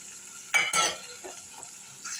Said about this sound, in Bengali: জল দিয়ে একটু এভাবে কষিয়ে নেব।